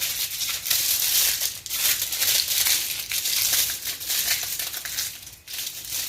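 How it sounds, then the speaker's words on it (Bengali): Aluminium foil being wrapped around a chicken cutlet roll gives a steady close crinkling and crumpling, continuous with small rustling bursts and no voices. "সবাই যখন এরা সার্ভ করে তখন এরকম অ্যালুমিনিয়াম ফয়েলের মধ্যে এইভাবে ব্যাপারটাকে মুড়িয়ে সার্ভ করে"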